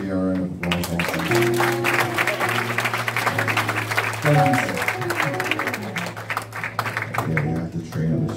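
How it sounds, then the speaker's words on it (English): A church congregation claps steadily through sustained organ or keyboard chords, the applause continuous and fairly loud, with voices mixed in. "Go on, give Teddy a round of applause."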